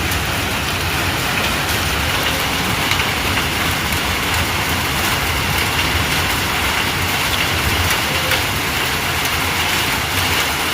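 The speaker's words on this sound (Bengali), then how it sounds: "আজকে সিলেট শহরের মধ্যে মৃদু হওয়া বৃষ্টি হচ্ছে" Light rain falls steadily over Sylhet city as a constant dense hiss, even and unbroken throughout, with faint traffic rumble beneath and no voices.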